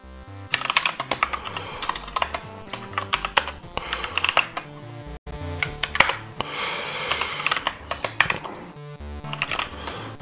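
Rapid typing on a computer keyboard while programming, with bursts of dense clacking keystrokes broken by short pauses, steady and close throughout with no talk.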